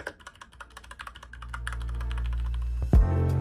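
Typing on an Equinix F96 mechanical keyboard gives quick, crisp key clicks for about a second and a half. They then fade under a rising steady hum, and a sharp thump lands near the end.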